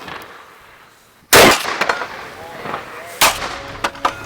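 Historic artillery cannon at a commemoration of the Battle of Carabobo, two loud booming blasts a couple of seconds apart, each with a rumbling tail, close and sharp over faint background noise.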